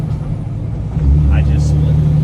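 A 13-speed truck during a split gear shift, a loud steady diesel rumble that deepens and swells midway as the gear changes, with someone talking over the engine.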